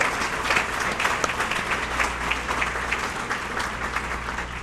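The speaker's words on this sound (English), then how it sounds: "All right, now we can give them a round of applause." An audience at a small business awards ceremony applauding the finalists, steady, sustained clapping from a large room, even in loudness throughout without talk.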